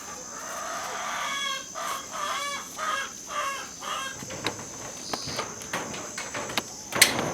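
Local farm chickens cluck close by in a rhythmic series of repeated calls. A sharper, louder squawk comes near the end.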